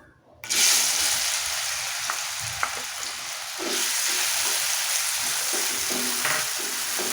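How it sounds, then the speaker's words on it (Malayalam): Chopped ripe plantain drops into hot ghee in a pan and bursts into a loud, continuous sizzle that keeps going, with a few light stirring clinks. "ഇത് നല്ലപോലെ ഒന്ന് വഴറ്റിയെടുക്കണം. ഒരു ഗോൾഡൻ നിറമാകുന്ന വരെ വഴറ്റിയെടുക്കാം."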